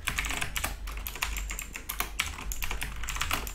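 Rapid typing on a computer keyboard while coding, a dense run of clicking keystrokes at close range and steady volume, with no voices.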